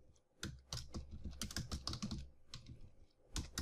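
Someone types on a computer keyboard in quick, uneven bursts of close, crisp key clicks with short pauses between them, quiet and alone.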